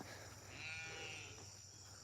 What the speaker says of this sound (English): One sheep one goat that's trailing behind.